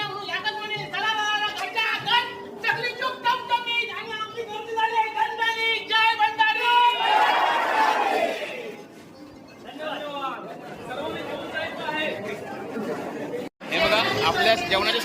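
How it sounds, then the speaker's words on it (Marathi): Dense crowd chatter fills a community award ceremony of the Ratnagiri Bhandari Samaj Sangh, many voices overlapping at close range, with children's voices mixed into the babble and a brief gap near the end. "इतकी गर्दी झाली"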